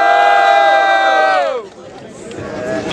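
Crowd at a student rap battle in Guarulhos, São Paulo, roaring and shouting in support of a rapper's rhymes, loud and sustained before easing into a rough general din.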